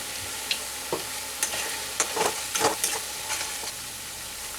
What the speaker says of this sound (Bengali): টমেটোটা দিয়ে খুব ভালো করে 2 থেকে 3 মিনিট ধরে আমি কষিয়ে নেব